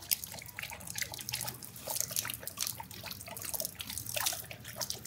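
Water trickling and dripping as it is poured for a German Shepherd, a close, steady patter of small splashes and drips going on without a break, fairly quiet and with no talking.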